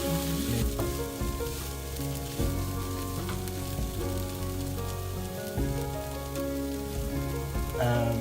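Food caramelizes in a hot pan, giving a steady, close crackling sizzle that continues without a break under a faint musical background.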